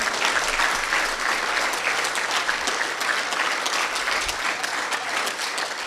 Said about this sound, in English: a big round of applause this term